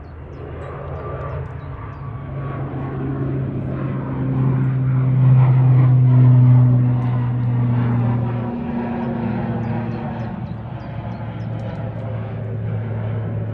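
Etihad Airbus A350-1000 jet at Manchester Airport, a steady engine roar with a rising tonal hum that swells in the middle and eases off, heard from a distance without talk.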